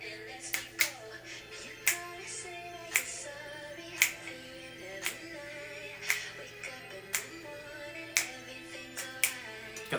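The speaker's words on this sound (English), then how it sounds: "Got the double clap there." Sharp double handclaps recur at regular intervals in a recorded R&B song, standing out crisply above sustained chords and a steady musical bed.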